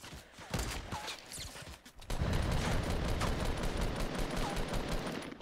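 Gunfire rattles through a Fortnite match: a few scattered shots at first, then from about two seconds a dense, continuous burst of rapid automatic fire, fairly quiet overall, with no voices.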